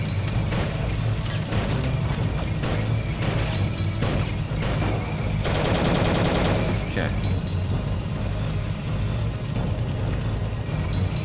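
Machine gun fire rattles in the World War 2 strategy game Soldiers: Heroes of World War 2, with dense overlapping bursts and blasts over continuous battle noise, loud and sustained, while a person talks at times.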